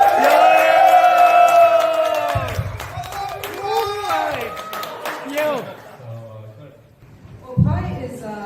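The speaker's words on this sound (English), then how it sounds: "So shall we have more applause for the?" At a crypto event, a crowd cheers with loud drawn-out whoops and shouts, broken by short bursts of clapping, with voices rising and falling throughout.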